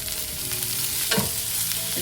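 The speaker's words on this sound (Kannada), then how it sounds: "ಎಲ್ಲದೂ ನಿಧಾನಕ್ಕೆ ಫ್ರೈ ಆಗಬೇಕು" Green chilies and garlic fry in a pan with a close, steady sizzle, broken by a quick scrape of stirring near the middle.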